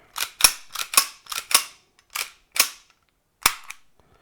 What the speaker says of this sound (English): just pop the slide release catch back